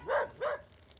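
Two quick dog barks come in fast succession at moderate distance, then fade into a quiet, faintly noisy background.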